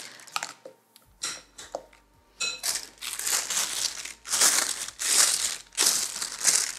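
A plastic Ziploc bag being handled and shaped into a makeshift piping bag with a piping tip pushed through a cut corner, giving close, loud crinkling and crumpling in repeated bursts with no talking.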